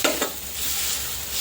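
Food sautés in a pan while spicy Yippee noodles are prepared, giving a steady, close hiss of frying with a couple of light stirring scrapes near the start and no voices.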